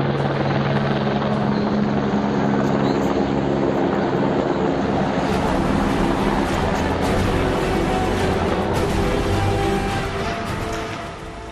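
Army helicopters deployed for disaster relief thunder overhead in a loud, continuous rotor drone that stays close and steady before easing slightly at the end, with no voices.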